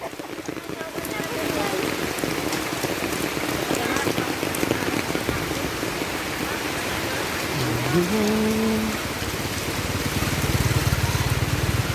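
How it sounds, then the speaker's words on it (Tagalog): Heavy rain drums steadily and loudly on an umbrella overhead, a dense continuous patter with a brief vocal murmur partway through. "Dakas ang ulan guys, kahit nakapayong eh nababasa pa rin ako ah."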